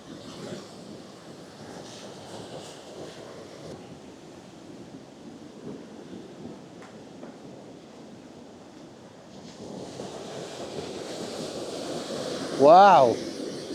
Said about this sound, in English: Sounds like the waterfall.